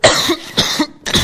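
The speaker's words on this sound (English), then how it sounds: "Smoker's cough." Three rough, wet coughs from one person in quick succession, close and loud, in the manner of a heavy smoker's cough.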